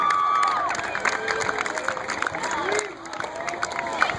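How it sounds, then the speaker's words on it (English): Crowd at a high school homecoming parade applauding and cheering for two students, a busy mix of clapping, shouts and voices, loud and continuous with a brief dip near the end. "How about a round of applause for Carly and Jared?"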